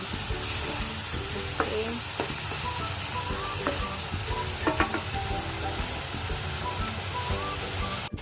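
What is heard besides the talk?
sautéing and stirring onions in a pan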